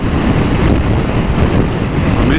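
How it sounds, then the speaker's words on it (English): Strong wind buffeting the microphone on a fast ride along the Mountain Mile near Snaefell, a loud, constant, rumbling roar with no speech. "very windy today."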